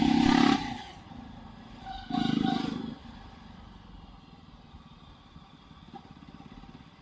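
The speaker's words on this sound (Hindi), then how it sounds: "आओ भी एक जगह और सुनाता हूँ मैं एग्जॉस्ट।" A Jawa 42 motorcycle exhaust gives two short revving blasts up close, then settles into a lower, steady burbling idle that continues to the end.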